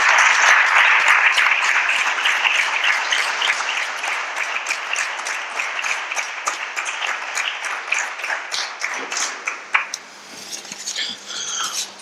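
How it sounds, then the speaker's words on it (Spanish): Sustained applause from a seated audience at an extraordinary council session in Nerva's town hall, loud and dense at first, then thinning into scattered claps and a few louder individual ones near the end. "yo voy a pedir un aplauso para las hermanas y para Miguel por la lectura"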